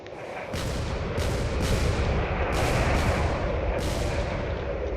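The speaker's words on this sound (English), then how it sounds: "This is just a rain of cannon fire" Corvettes trade cannon fire in a video game battle, a continuous roaring barrage with several heavier booms standing out at regular intervals, loud and dense throughout.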